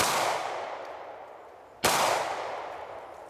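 Two loud, sharp 9mm pistol shots of SIG Sauer 124 gr ammunition, fired at a target from about three yards, sound close up about two seconds apart, each followed by a long fading echo.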